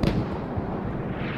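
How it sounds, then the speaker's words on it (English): Mortar shells exploding in the video game Squad, a loud low boom at the start rolling into a sustained rumbling decay for over a second. "Mortars falling on the south side."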